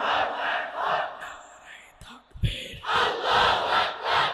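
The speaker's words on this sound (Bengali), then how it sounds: "তারা দাঁড়িয়ে একটা স্লোগান দাও, নারে তাকবীর, নারে তাকবীর।" A crowd at a Bengali religious sermon gathering chants a slogan in unison, loud rhythmic group shouts in repeated bursts with a short pause in the middle.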